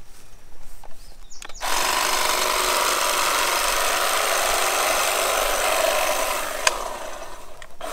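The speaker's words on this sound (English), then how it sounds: "A brush cutter of sorts, a sickle bar, a weed mower." A sickle bar weed mower starts up and runs with a steady, loud, buzzing mechanical drone that holds constant close by after a few initial knocks.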